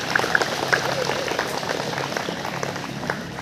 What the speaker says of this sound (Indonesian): tepuk tangan dulu buat guru-guru kita.